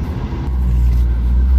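Car engine rumble from inside a vehicle stuck in slow traffic at a light, a steady loud low drone that swells slightly partway through, with no talking.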